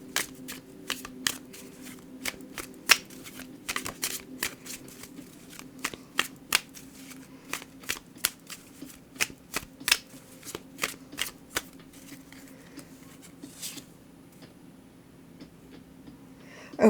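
A deck of tarot cards is shuffled by hand, giving a long run of crisp riffling snaps and soft flutters at an uneven rhythm, close and fairly quiet, with no talking.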